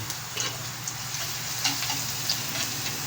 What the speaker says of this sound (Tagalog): Lagay ko po una ang bawang.